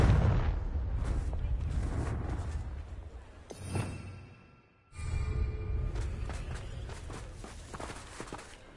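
A Confringo fire-blast spell cast in the Hogwarts Legacy video game, heard as a sudden whooshing burst around the middle that fades into a short quiet gap. Game footsteps and ambient rumble continue before and after, with a voice present.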